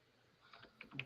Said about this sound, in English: I'm typing something in the chat.